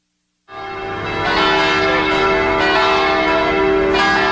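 A large cast-bronze church bell tolls, its sustained ringing tone swelling after a silent start and lingering with rich, steady overtones throughout.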